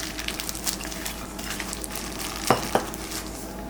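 Onion being hand-mixed into ground beef for chapli kabab, soft wet squishing and stirring with a couple of sharper knocks near the end.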